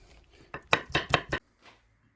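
Garlic finely chopped with a knife on a board: a quick burst of about five crisp, close chops, then quiet.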